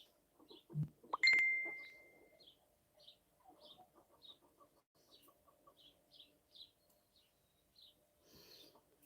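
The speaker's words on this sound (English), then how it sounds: "get rid of these fucking chickens for a bit because they're annoying shit out of me" Chickens cluck in short, scattered bursts at a backyard pen, with one louder squawk early on and then soft, irregular clucks and chirps continuing at a moderate distance.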